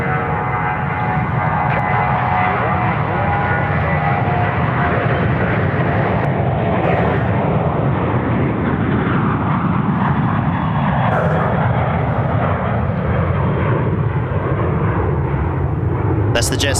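A Jetstar jet takes off from runway 34 right at Sydney Airport, bound for Avalon, giving a loud, steady, broadband engine roar that runs for the whole stretch.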